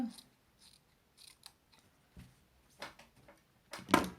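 Scissors snip through bread dough in several short, sharp cuts, spaced irregularly and growing louder toward the end, close by and with no talk over them.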